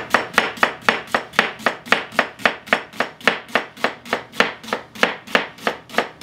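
A knife chops an onion on a cutting board for egg rolls, striking in a fast, steady rhythm of about twenty crisp, close blows with no talking.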